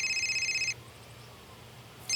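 A telephone rings in a household, one electronic ring that stops abruptly, then a quiet pause before the next ring begins, fairly faint with no talk.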